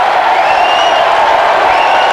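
At an AFL match, Fremantle versus Richmond in 2000, a large stadium crowd roars and cheers in a loud, sustained wash of noise, steady for the whole stretch with no break.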